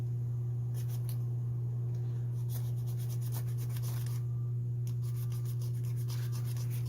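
A knife spine striking a ferro rod to throw sparks makes repeated short scraping strikes in quick bursts, close by, over a constant low electrical hum.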